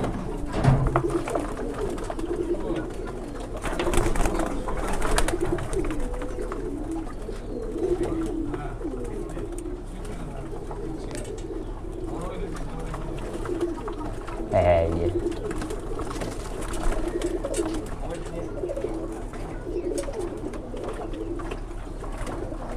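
Young pigeons bathe in a slippery plastic tub, cooing steadily and throatily close by over a long stretch, with faint voices and occasional shuffling mixed in.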